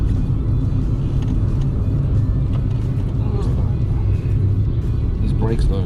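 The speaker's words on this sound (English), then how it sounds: "Nothing vibrates, just the noise from the tires." Steady, loud road roar from a Fiat Uno's tires rolling over pavement, a continuous low rumble filling the whole stretch with no breaks.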